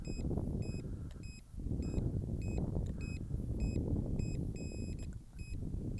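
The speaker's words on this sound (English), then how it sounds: "That's our low battery warning." Low-battery warning from a Hobbytiger H301S GPS FPV camera drone: rapid, regularly repeating high beeps over a steady rumble of wind and handling noise, fairly faint and with no talking.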